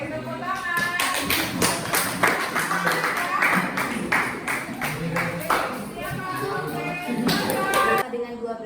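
Rhythmic hand clapping in a classroom during a mathematics lesson, repeated sharp claps in a steady pattern over several seconds, with voices talking and chanting alongside.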